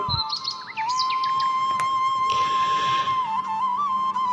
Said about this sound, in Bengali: চারদিকে পাখির কিচিরমিচির শব্দ